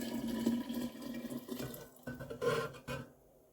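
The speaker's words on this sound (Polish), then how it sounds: "zalewamy tą wodą buraki" Cooled water is poured from a vessel over beetroots to make a sourdough starter for red borscht, a continuous splashing gurgle that shifts in pitch, pauses briefly and ends with a few final splashes.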